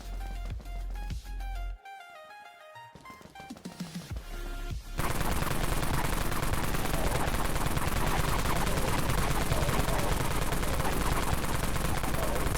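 Weapons fired in the Dead Frontier game, starting with scattered shots and clicks amid game music, then erupting into a loud, continuous rapid-fire burst of automatic gunfire that sustains to the end.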